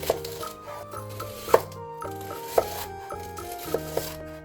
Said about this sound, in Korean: 양파는 반개를 잘라줍니다.